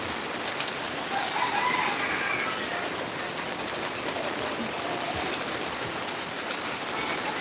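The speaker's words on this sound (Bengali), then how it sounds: "বৃষ্টি প্রচুর বৃষ্টি হচ্ছে সকাল থেকে" Heavy rain pours steadily and close by, a dense unbroken hiss of drops beating on surfaces, with a rooster crowing faintly in the background and no talking.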